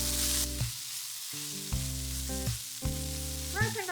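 Onions caramelizing in a 24 cm frying pan, a steady sizzle interrupted by a few bursts of stirring or scraping, close and fairly quiet.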